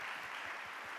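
Steady crowd clapping fills a university church as the Sunday morning congregation applauds incoming freshman students, a brief, even wash of applause with no talking.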